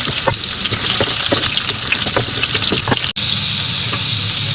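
Pointed gourd (parwal) frying in hot mustard oil in a kadhai, a steady loud sizzle with crackling pops throughout, briefly cut off for an instant near the end.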